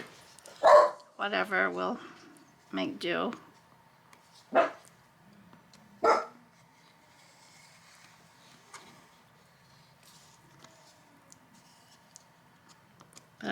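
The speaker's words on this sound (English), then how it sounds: "I'm sorry about the dogs." Dogs downstairs bark in several sharp bursts, moderately loud, separated by quiet stretches, with a person speaking briefly.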